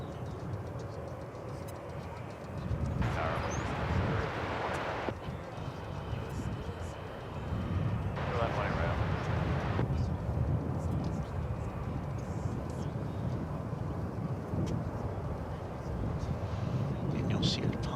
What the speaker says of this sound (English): This is Spirit Flight 2701 off to Las Vegas, Nevada.